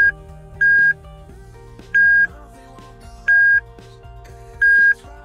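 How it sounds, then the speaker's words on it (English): A dog tracking collar beeper sounds four steady, evenly spaced beeps, each about a third of a second long, over a low background hum. "it beeps continuously"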